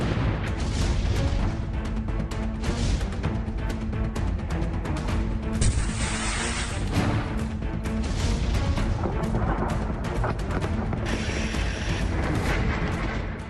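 Bombing in Kyiv: a dense, continuous barrage of booming blasts and sharp cracking reports, loud and overlapping throughout with no pauses and no voices.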